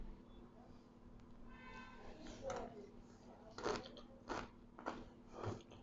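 A bite and chewing of a shawarma with garlic sauce and nacho chips: a few close, crisp crunches and soft mouth sounds over a quiet background, with brief faint vocal murmurs.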